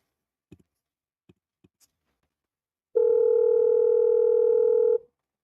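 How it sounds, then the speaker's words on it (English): A few faint clicks on a phone call, then a single steady voicemail beep lasting about two seconds, loud and clean against silence before cutting off. "message after the tone"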